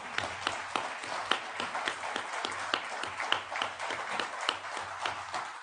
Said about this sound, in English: It means a lot to me to get at least one little bit of applause.